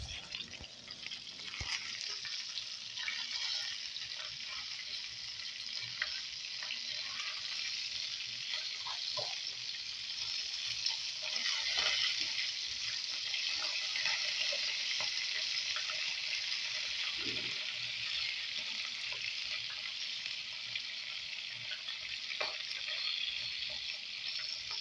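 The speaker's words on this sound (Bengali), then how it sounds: "মাছ ভাজা অলরেডি চলছে" Fish fries in a pan with a continuous crackling sizzle and hiss throughout, moderately loud and steady, with faint clicks and no talking.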